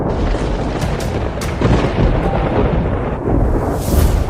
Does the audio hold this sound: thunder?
yes